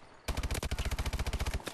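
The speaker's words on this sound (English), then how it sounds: "I shot, what, 2 bullets at him, then I got a headshot hit marker" Rapid video game gunfire bursts out in a fast, even volley of about fifteen loud, close shots, each a sharp crack, with no talk over it.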